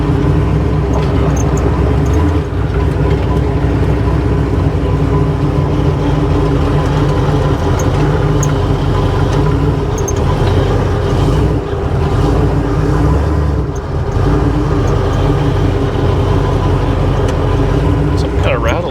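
A hot rod engine idles with a steady, loud low rumble and a slight rattle, holding an even note throughout.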